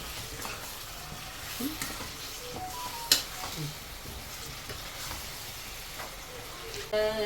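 Chicken kurma is stirred in a pan, a soft bed of sizzling with occasional scraping taps of the spoon, fairly quiet and close, with a brief louder knock near the end.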